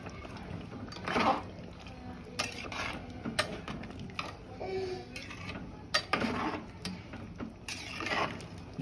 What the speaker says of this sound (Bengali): আলু আর মটরটা মিক্স করে নেব।